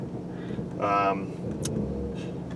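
A Dodge Charger driving and turning around in a driveway, a moderate engine hum with a brief swell of revving, heard under people talking inside the car.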